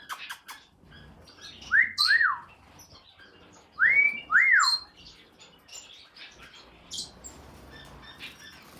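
Pet birds, newly brought home, give clear rising whistles in pairs amid quick scattered chirps and tweets. The calls are close and fairly loud against a quiet room.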